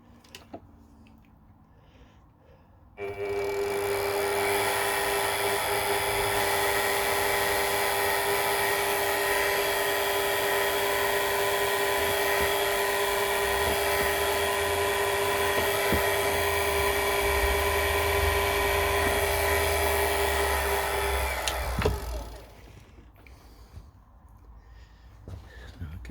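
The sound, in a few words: centre drill drilling on a lathe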